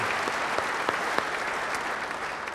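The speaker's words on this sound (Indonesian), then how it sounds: "beri tepuk tangan yang baik bagi dia" A church congregation claps together in a brief, dense burst of applause, steady and fairly loud throughout with no one speaking.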